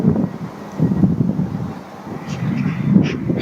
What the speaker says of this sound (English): Fuck, it's windy.